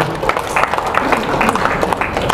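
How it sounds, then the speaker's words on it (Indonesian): An audience at a lecture claps hands in a loud, brief burst of applause, dense and uneven, with crowd noise and voices mixed in. "Tepuk tangan itu"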